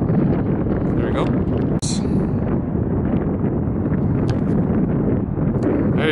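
Strong wind gusts across an outdoor football field, buffeting the microphone with a constant low roar, while voices are heard faintly underneath.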